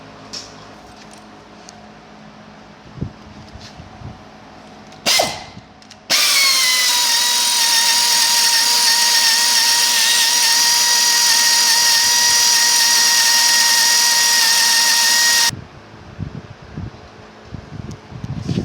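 A loud power tool whirs steadily for about nine seconds, close up, as it tightens the clamp on a suction hose during a KoldSpray A and B side replacement, with a brief buzz beforehand and faint handling clicks around it.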